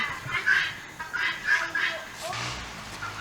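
Chickens cluck in a garden where the flock is put to work preparing the ground, giving a few short, rising calls close by, with a voice speaking briefly near the end.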